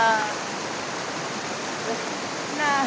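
A stream in the countryside flows with a steady, soft broadband rush, with faint brief bird-like chirps at the start and end and no speech.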